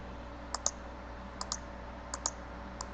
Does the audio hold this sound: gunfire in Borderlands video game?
no